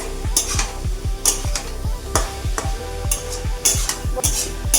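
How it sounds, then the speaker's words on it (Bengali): Spoon stirring garam masala through cabbage in a pan, repeated scraping strokes in an even rhythm with sharp metallic clinks, close and fairly loud, no talking. "গরম মশলাটা ভালো করে মিশিয়ে দিলাম।"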